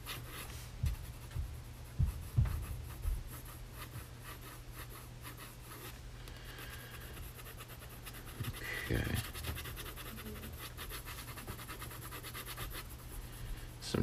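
A pencil scratches and rubs across paper in arcing strokes while shading a sphere in a basic drawing lesson, with soft, uneven scraping strokes throughout and faint breathing.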